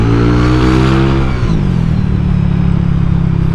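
An older Honda Vario 125 scooter engine revs loud and close on a test ride, a rising drone that dips briefly and then settles into a steady, strong buzz.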